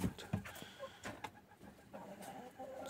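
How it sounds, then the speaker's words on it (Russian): A Kuchinsky Jubilee breed hen sits in a coop getting ready to lay and gives soft, low clucks. The sound is faint and close, set against quiet barn noise, with a few small scratches and shuffles. "Тут вот у нас тоже сидит курица породы кучинская, юбилейная."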